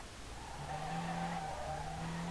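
A Nissan R32 built to FD spec drifts in the racing game SLRR, its tires skidding and squealing over a steady engine drone. A clutch kick briefly raises the pitch in a continuous, moderately loud passage.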